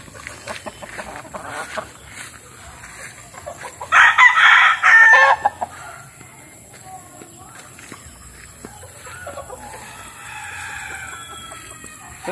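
Backyard chickens clucking close by with a rooster crowing once loudly, while someone talks between the calls.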